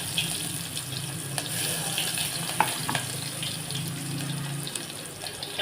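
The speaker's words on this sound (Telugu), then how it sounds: "జీలకర్ర వేసుకున్నాక ఉల్లిపాయలు కూడా వేసేసుకున్నాము" Cumin and onions fry in a hot pan, giving a steady close sizzle with faint crackles and a few light clinks, no talk over it.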